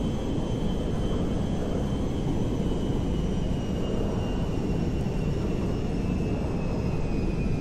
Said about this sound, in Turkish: dünyanın en büyük yangın söndürme tanker uçağı Boeing 747 Türk Hava Kurumu'nun filosuna katıldı